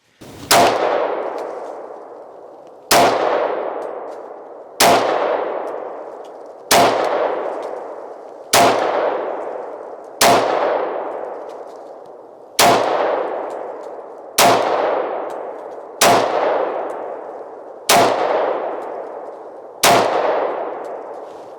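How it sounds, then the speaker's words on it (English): A Sig P229 pistol firing .40 caliber rounds outdoors, eleven loud sharp shots spaced about two seconds apart, each cracking and then ringing out in a decaying echo, with no talking. "it's still a comfortable gun to shoot in the 40 caliber"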